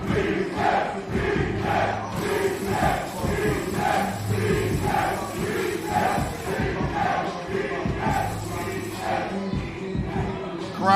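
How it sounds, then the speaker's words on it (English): A wrestling crowd at a Loko Wrestling show between AKIRA and Bryan Keith keeps up a steady roar of cheering and chanting, with a commentator speaking over it the whole time and a rhythmic pulse running through the noise. "Crowd is alive and ready to go."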